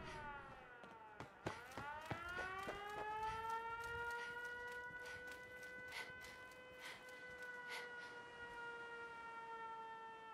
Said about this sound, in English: siren going off for shits and gigs